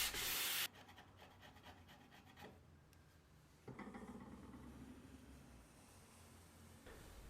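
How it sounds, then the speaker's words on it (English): A sanding block scrubs back and forth along a wooden guitar neck, a steady soft rasping friction heard close up, with a brief sharp noise at the start. "with a few scrubs of the sanding block"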